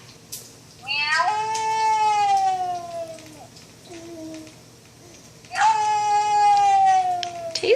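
A cat gives two long, drawn-out meows, each a loud, clear, wavering cry lasting a couple of seconds, separated by a quieter pause with faint background noise.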